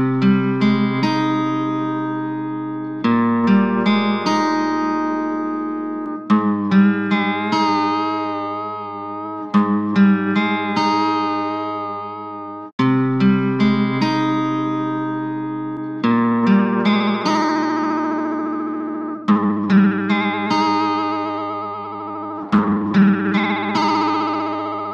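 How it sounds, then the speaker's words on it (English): A free tape-emulation plugin applies lo-fi wow and flutter to a sustained instrument, giving slow pitch wobble across repeated chords that restart every few seconds, with echo and chorus-like smearing and no talk. "This low frequency wobble in pitch is the must-have for a lo-fi instrument sound."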